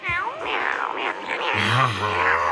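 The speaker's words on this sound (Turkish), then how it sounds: "Aa kedi." A cat found in a bathroom meows in a few close, plaintive cries, with voices and some muffled noise around it.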